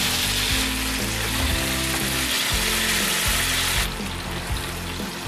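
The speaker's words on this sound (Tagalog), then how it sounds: "Lagay lang tayo ng mantika. Ipa-pan-fry lang natin yung ating karne." Pork steak pan-fries in cooking oil with a dense, crackling sizzle that runs loud and steady, easing slightly near the end, close up and with no voices.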